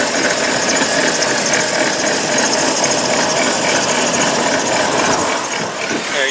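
A 2005 Dodge Grand Caravan SXT engine runs steadily nearby with a constant, loud mechanical drone and no talking.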